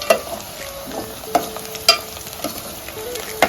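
Onions fry in a pan with bay leaf, shahi jeera, cardamom, cloves and a few peppercorns, giving a low, soft sizzle under a few sharp clinks of a spoon stirring against the pan.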